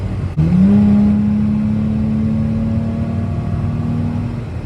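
A close, loud third-generation Toyota 4Runner engine idles and revs up through a Cherry Bomb Salute muffler, with a deep, throaty exhaust rumble that holds steady for several seconds.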